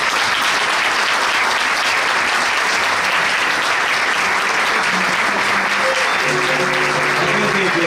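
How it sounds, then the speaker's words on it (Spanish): Sustained applause from an audience at a commerce and industry association's anniversary event in Coronel Dorrego, dense and steady throughout, with music faintly entering toward the end. "Y aplaudan que hacen bien."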